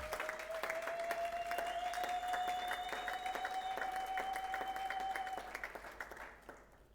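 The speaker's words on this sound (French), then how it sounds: "Est-ce qu'on peut acclamer très fort le roi des rois?" A church congregation applauds steadily for several seconds at a Sunday worship service, dense clapping over a sustained sung or shouted tone, then tapering off toward the end.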